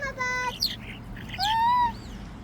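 Small birds chirp close by while being fed from a person's hand, giving short high whistling calls with rising and wavering tones in quick bursts, separated by brief gaps.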